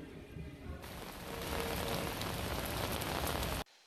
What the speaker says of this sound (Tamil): மிக கடுமையான மழையை இன்றைக்கு காலையில் சந்திச்சுட்டே இருக்கோம்